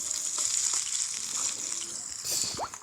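Food frying in a Toca Kitchen cooking game gives a continuous bright sizzle with small crackles and a rising chirp near the end, loud and close with no voice over it.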